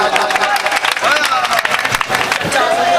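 Applause from the audience at a mushaira poetry gathering, a dense steady wash of clapping and crowd noise sustained throughout, with voices mixed in.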